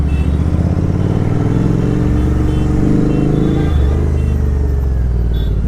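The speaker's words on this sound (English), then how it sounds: "Man, this is a hell of a traffic." Heavy night traffic on a Mumbai road, a loud continuous rumble of car and motorbike engines close by, with passing vehicles swelling and revving over a dense low drone.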